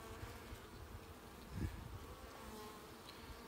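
Honey bees buzzing at an open top bar hive during an inspection, a faint steady hum of many insects close by with a brief louder bump partway through.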